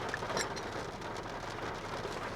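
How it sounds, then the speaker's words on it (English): Rain beginning to fall outside a car, a soft diffuse patter and hiss heard from inside the cabin, steady and fairly faint with a couple of slightly sharper drop hits early on, no talking. "it's just started raining"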